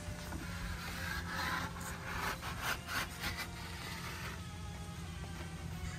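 Wax is scraped off a surfboard with a tool, heard as faint rasping strokes over a steady background hum, with no talk.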